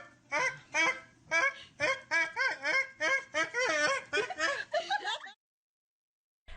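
A person imitates a duck call with a rapid run of nasal, quacking honks over a radio broadcast of a moose and duck calling contest, loud and close, stopping abruptly before a brief silence.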